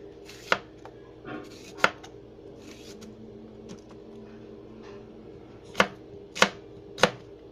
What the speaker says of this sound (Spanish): Y cortaremos un chile jalapeño para darle sabor y parte del adorno.